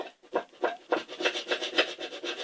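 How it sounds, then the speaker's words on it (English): Glue being scraped off a wooden piano stool, a close, steady run of rough rasping strokes repeating every fraction of a second with no voices. "then, right there, scraping off pretty good there"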